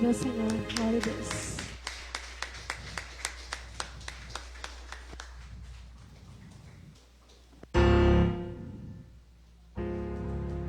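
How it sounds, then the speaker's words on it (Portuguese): Rhythmic hand claps from a congregation during a church service, steady evenly spaced beats over music and singing, with a loud burst of sound near the end. "As palmas louvem ao Senhor."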